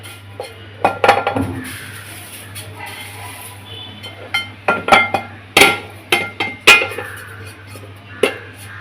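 Dry-roasted curry leaves rattle and clink in a metal pan, giving a series of sharp, crisp taps and scrapes with short pauses between them, close up and without talk.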